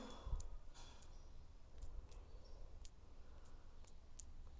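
A computer keyboard gives sparse, faint clicks spaced irregularly over a low, steady hiss, with no voices.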